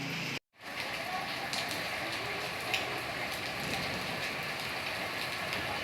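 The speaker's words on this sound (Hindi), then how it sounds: "सही मज़ेदार बारिश शुरू हो गई है" Heavy rain pours down steadily as a dense, close hiss of falling water, with a brief dropout near the start and no voices over it.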